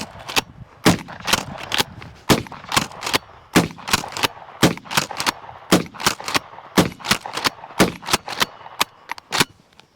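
Gunshots from a pistol-grip firearm fired outdoors, a series of about twenty sharp individual reports spread unevenly across the span with short gaps between them, moderately loud with no talking.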